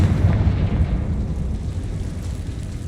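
A Confringo fire spell explodes in Hogwarts Legacy, a deep, sustained booming rumble that is loudest at the start and slowly fades over a few seconds, with no talking.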